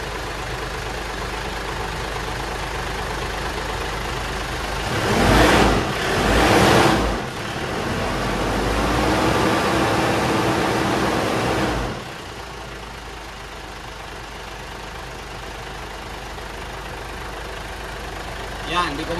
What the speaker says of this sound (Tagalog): Umaanda na siya. I-rip ko para marinig nyo yung tunog